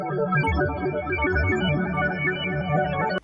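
Upstream preset from Steinberg's X-Stream plays a bubbly synth arpeggio washed in delay and reverb, its rapid repeating notes blurring into a continuous shimmering, soothing haze that sustains evenly.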